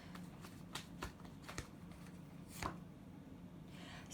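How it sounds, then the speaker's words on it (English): A deck of tarot cards is shuffled by hand, a handful of quick riffling snaps and flutters over a low steady hum, faint and close. "One more shuffle."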